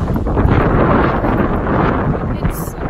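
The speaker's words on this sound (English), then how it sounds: "It's so windy." Strong wind buffets the microphone with loud, continuous rumbling gusts at an outdoor spot in Sydney, steady throughout with a brief high hiss near the end.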